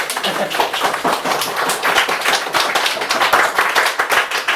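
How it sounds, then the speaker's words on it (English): Audience clapping fills a bar during a live spoken-word night at The Whitehouse Bar in Limerick, a steady, close round of hand claps that carries through the whole stretch with no talk over it. "She does deserve a round of applause."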